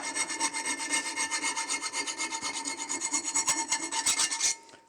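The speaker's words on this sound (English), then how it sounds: "I've got a little chainsaw file which I think will do it enough." A small chainsaw file rasps across the back of a wooden dowel plate to remove the burr, giving a steady run of quick, close back-and-forth strokes that stops abruptly near the end.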